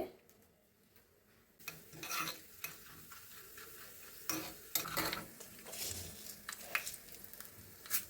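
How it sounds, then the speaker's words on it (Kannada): Byadgi chilli pieces and urad dal frying in hot coconut oil, a quiet sizzle broken by bursts of crackling, scraping and stirring against the pan, close and intermittent with no talk. "ಎಣ್ಣೆ ಬಿಸಿ ಆಗ್ತಿದ್ದ ಹಾಗೆ ನಾನು ಎರಡು ಬ್ಯಾಡಗಿ ಮೆಣಸಿನ್ಕಾಯಿ ಪೀಸ್ ಹಾಕ್ಕೊಂಡಿದ್ದೀನಿ ಸ್ವಲ್ಪ ಉದ್ದಿನಬೇಳೆ"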